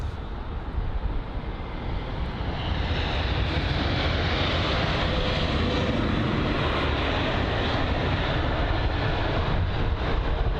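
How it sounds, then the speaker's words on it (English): An Aegean Airlines Airbus A321neo from Athens, at London Heathrow, makes a broad jet roar that swells after a couple of seconds and then holds loud and steady. "A321neo from Athens"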